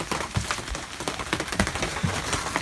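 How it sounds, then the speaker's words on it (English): Steady rain falls in Florida during pre-hurricane weather, a dense, close patter of drops on surfaces with scattered louder individual splats, heard alone throughout. "fortunately the rain's letting up some, it hasn't stopped"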